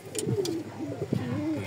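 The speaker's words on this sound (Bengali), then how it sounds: "খুবই পুরাতন জাতের কবুতর এগুলা।" A pair of Maksi pigeons, an old breed, gives soft, rolling coos close by, with several short, warbling phrases repeated in quick succession and no other sounds.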